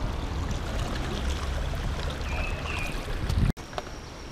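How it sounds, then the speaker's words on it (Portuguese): Swimming pool water circulates through a running filter, making a steady rushing, gurgling flow close by that briefly cuts out near the end before resuming. "Já está filtrando a água da piscina."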